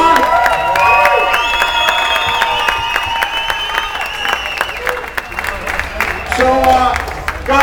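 A crowd at the Rocklahoma rock festival cheers and applauds for a band, loud sustained clapping and shouting with voices and whistles rising over it.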